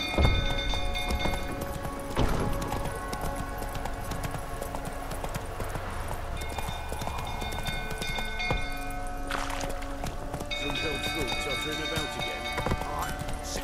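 The horse Roach in The Witcher 3 gallops with rapid clip-clop hoofbeats throughout, accompanied by occasional whinnies and thuds, steady and close, with voices talking over the hooves.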